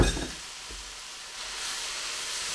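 Spiced rehydrated veggie mixture being stirred through konjac noodles in a hot pan, a soft steady sizzle and hiss with a brief scrape near the start, close and quiet.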